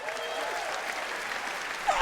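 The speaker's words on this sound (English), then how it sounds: "They all clapped at it." An audience at the ESPYS awards show applauds in a steady, even wash of clapping from a large crowd, slightly swelling toward the end.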